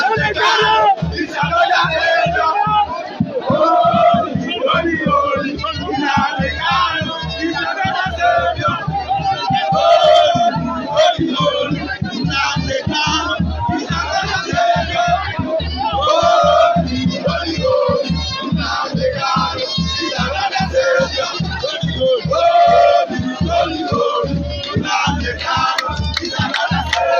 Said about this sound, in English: You can see that this crowd is a significant testimony of commitment and love for our country.